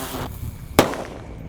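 A red teratetor firecracker set off at night during Ramadan fireworks: a single sharp bang sounds once partway through, loud and close, with low background rumble before and after.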